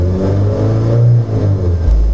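A Toyota RAV4 engine revs hard and close, a loud, low droning roar that swells and dips in pitch for a couple of seconds.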